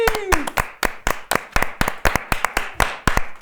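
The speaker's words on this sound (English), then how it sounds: "Applause for Steph" Rhythmic hand clapping from a small group, sharp claps in a steady pulse throughout, with a brief voice at the start.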